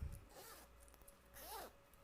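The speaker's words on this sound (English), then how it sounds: "I'm going to pull the zipper" A zipper is pulled closed on fabric during a sewing project, giving one or two short, quiet rasping runs close by, with no talk over it.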